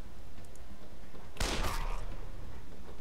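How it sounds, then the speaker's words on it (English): Outdoor fireworks go off in a sudden loud burst of crackling bangs partway through, then fade into a short rumbling tail over a quiet background. "Fireworks outside."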